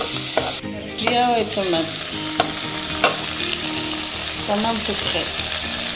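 Beef and fresh tomato sauce stirred in a pan over low heat: steady sizzling under scraping, squeaking strokes of a utensil across the pan, with a brief spoken phrase near the start.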